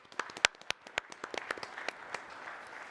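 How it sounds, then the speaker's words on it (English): Scattered, sparse clapping from a small audience at a campus event, a few distinct claps rising briefly and then thinning out into faint, quiet taps. "Round of applause for our friend Joe Grieve tonight."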